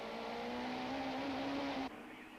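Onboard engine of the Taylor Toyota Camry super touring car racing at Killarney circuit in the 1995 South African championship: a loud, steady high-revving drone that rises slightly, then drops abruptly near the end as the revs fall.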